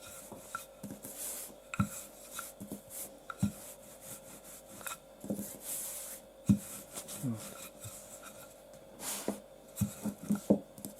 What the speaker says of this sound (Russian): Раскатываем, значит, наше тесто такое